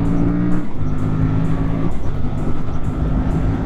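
Aprilia Tuono 457 motorcycle engine accelerating on the road, a loud, close, steady droning engine note with stepped pitch changes as it climbs through gears, heavy wind rush underneath.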